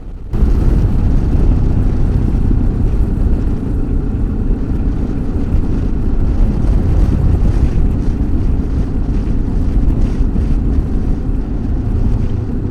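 Loud, steady wind roar buffeting the microphone while riding a bicycle at over 80 km/h, a constant low rumble with no breaks, air rushing past.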